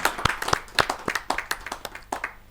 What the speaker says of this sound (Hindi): जो जोरदार ताली के साथ हम उनका स्वागत है।